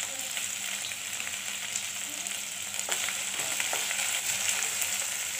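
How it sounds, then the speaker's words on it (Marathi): Finely chopped green chillies frying in a pan for a cauliflower gobi dish, a steady close sizzle and crackle with faint stirring and no voices. "हिरवी मिरची टाकली त्याच्यामध्ये बारीक चिरलेली"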